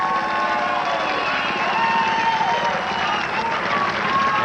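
Spectators at a 1994 women's pro beach volleyball national championship applauding and cheering after a point, sustained crowd clapping with a commentator talking over it.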